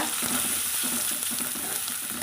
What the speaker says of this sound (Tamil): தேங்காய் போட்டு நல்லா வதக்கலாங்க